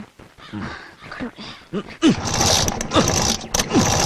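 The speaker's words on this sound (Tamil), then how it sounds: "ஐயோ நல்லா கிக் பண்ணுங்க என்ன ஸ்டார்ட் ஆகல" A motorbike is kick-started repeatedly in a domestic scene but fails to catch, giving a run of mechanical kick and clatter sounds, with a voice speaking over them.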